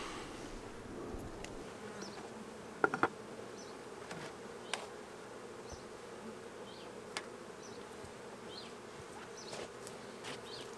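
Honey bees buzz around a hive during swarm catching, with individual bees droning past the microphone over a faint outdoor background and a few brief knocks.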